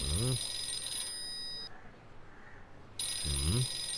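A telephone rings in a short burst, stops for a second and a half of quiet, then rings again, with a bright warbling tone over a low swooping electronic sound.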